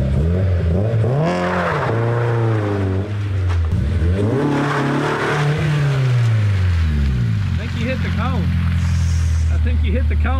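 A Honda S2000 being rebuilt after a wreck revs hard and accelerates through the gears on a rainy track with cones, its engine note rising and falling loudly and continuously close to the car.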